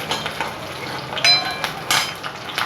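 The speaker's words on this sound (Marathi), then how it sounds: "आता हा थोडासा तळायचा आहे," Food sizzles in a hot pan, with a few clinks of a utensil against metal, brief and close.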